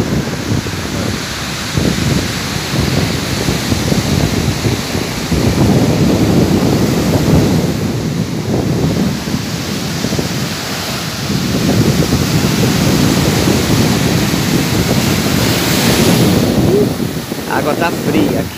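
A cool breeze blows beside cold water, roaring across the microphone in long, loud gusts over a steady wash of surf.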